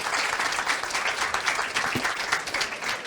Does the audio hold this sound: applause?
yes